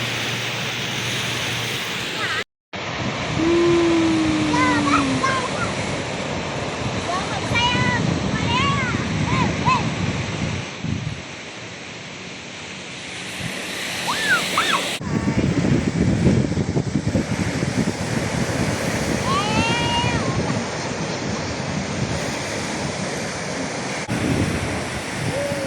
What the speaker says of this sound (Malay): Main air ombak je lah.